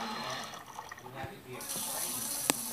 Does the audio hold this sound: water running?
yes